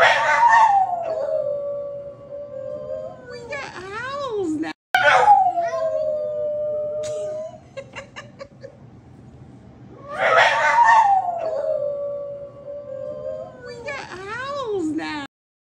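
Several dogs in a living room howl in long, wavering, drawn-out calls, with a small, higher howl from a young pup joining in. The howls come in two loud bursts separated by quieter whimpering yips, close to the recorder.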